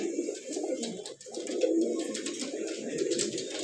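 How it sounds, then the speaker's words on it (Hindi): Domestic pigeons kept at home, cooing in soft repeated low calls, close and continuous with no talk over them. "कबूतर बहुत दूर दूर से हमने मंगाए हुए हैं कबूतर।"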